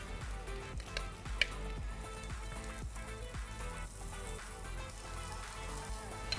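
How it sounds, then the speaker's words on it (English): Marinated fish pan-fries in oil with a soft, steady crackle and scattered pops, quiet and close, with faint bumps from the pan. "You're gonna take these lovely marinated fish and pan fry them."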